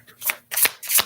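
Tarot of Curious Creatures cards shuffled on a table in three quick riffling bursts, each a crisp papery flutter that swells and fades, close and fairly loud with brief gaps between.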